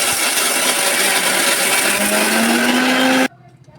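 A kitchen mixer grinder jar whirs loudly and steadily as it grinds spices into a coarse powder, the motor pitch slowly rising before it cuts off abruptly into near silence.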